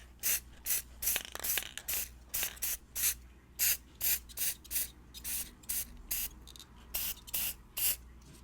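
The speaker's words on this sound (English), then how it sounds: "I'm going to be giving this a very quick blast with the acrylic spray" An acrylic spray can gives a rapid series of short spritzes, each a sharp separate hiss in an uneven rhythm, close and fairly loud with no talking.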